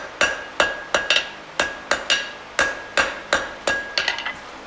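A hammer strikes hot steel during a forge weld, about a dozen sharp ringing blows in a loose rhythm, loud and close, with a quick flurry of lighter taps at the end.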